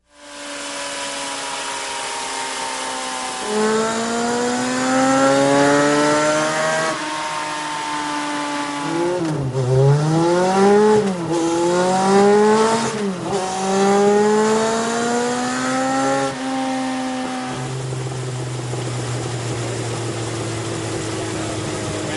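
A motorcycle on a dyno running ethanol fuel revs hard through rising and falling engine sweeps, loud and close, with a sustained high-revving run and throttle blips before settling back to idle.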